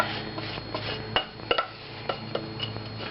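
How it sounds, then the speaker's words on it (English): Chocolate chips, butter and vanilla tipped into a pan that is not yet hot for cream cheese brownies, giving a few light clinks and taps of metal and utensils with soft rubbing between them, close and fairly quiet. "I'm going to add all this chocolate and the butter and the vanilla all in here"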